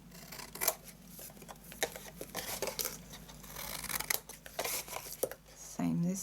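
Scissors cutting cardstock tabs for a handmade Christmas gift box: a series of crisp snips and light paper rustles under soft talk, close to the microphone.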